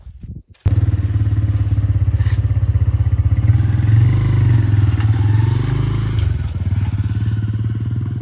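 A motorcycle engine starts up and runs steadily nearby, a throbbing low rumble with rattling and scraping over it as it rides.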